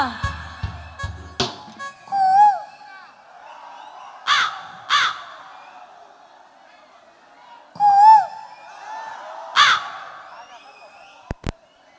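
A concert crowd imitating crow caws, several loud bursts of hoarse cawing voices spaced apart, over faint background chatter and a few knocks at the start.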